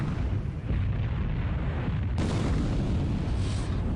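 Torpedo explosions in the War in the Pacific video game come as a continuous heavy rumble of booming blasts, loud and close, with a sharper fresh burst partway through that keeps roaring to the end.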